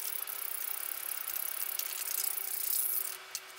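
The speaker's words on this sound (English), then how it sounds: "Then I'm gonna beat 3 eggs." A whisk beats three eggs in a bowl, making rapid, even clicking and rattling strokes up close for several seconds before stopping.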